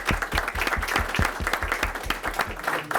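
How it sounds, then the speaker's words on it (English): An audience at a morning coffee and networking chapter meeting in South Houston applauding, many hands clapping with a strong, regular beat in a close, lively room, steady for the whole stretch. "Everybody give a round of applause to JB."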